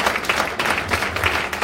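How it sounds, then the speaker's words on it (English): A weekend startup event audience bursts into steady, dense applause, loud and close, with many hands clapping at once. "Give yourselves a round of applause."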